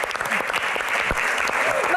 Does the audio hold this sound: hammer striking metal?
no